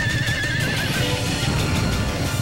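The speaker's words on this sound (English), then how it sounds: "He lands flat on his back, right under Robert's horse." A horse whinnies in a long, loud, wavering call close by while hooves clatter underneath, the whole burst lasting about two seconds with no talking.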